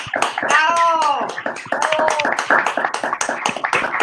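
Applause from participants in an online dance meeting continues as scattered claps under talking and an exclamation, with a person speaking over the clapping throughout.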